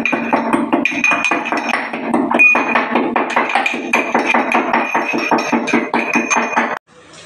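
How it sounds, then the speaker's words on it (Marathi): Rapid, even pounding taps as cardamom pods are crushed in a mortar, continuing close up for several seconds, then stopping abruptly. "इलायची ठेचून घेतात तसं"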